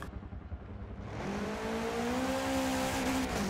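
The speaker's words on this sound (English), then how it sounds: "Another little drift for 100 points." A drift car sliding through a Daytona drift course, engine revving up and holding a steady pitch as the tires squeal, loud and continuous after a rougher rumbling start.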